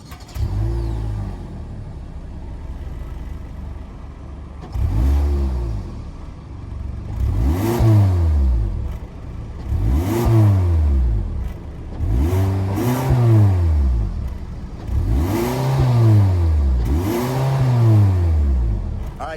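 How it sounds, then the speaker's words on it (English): A 2023 Hyundai Elantra Limited's 2-liter four-cylinder fires up and idles, then is blipped through about six sharp revs that climb and fall back, each rise and drop evenly spaced, loud and close with no talking. "let's fire up this 2-liter 4-cylinder and hear how she sounds"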